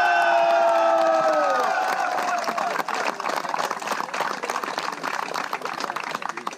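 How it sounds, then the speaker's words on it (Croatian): A crowd at a football club's championship title celebration cheers and whoops loudly, the roar rising after an opening swell of shouting and continuing with claps and scattered yells throughout. "veliki molim vas, aplauz, veliki pjesak, veliku vrisku za najboljeg trenera ikad, Dario Kozanić!"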